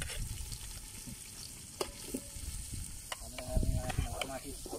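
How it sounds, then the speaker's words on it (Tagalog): Garlic and onion sauté in a pan over a wood fire, giving a steady sizzle with scraping stir strokes and a few clinks that grow busier toward the end. There is no speech. "Lagyan natin ang bawang, sibuyas."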